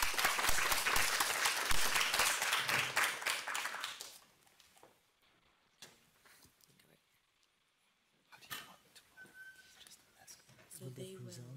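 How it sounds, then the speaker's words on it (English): Applause at a global health careers panel event, loud and sustained from a full audience for about four seconds, then fading into quiet room noise with scattered movement and a few faint sounds. "one more round of applause for our speakers"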